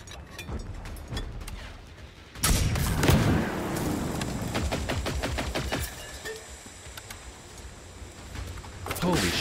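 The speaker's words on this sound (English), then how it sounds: "Switch over to the EMP rockets." EMP rockets fired in the Generation Zero shooter game: a loud launch blast followed by a rapid rattling string of sharp impacts and crackles, then lingering bursts and mechanical noise against ongoing gunfire.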